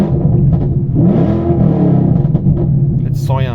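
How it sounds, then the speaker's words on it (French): A 2013 Ford Mustang GT engine fitted with a Mantic clutch revs up quickly under a light throttle, a loud close rumble rising and falling in pitch while someone talks over it. "quand j'appuie même pas forcément très fort, hein, le régime monte très vite"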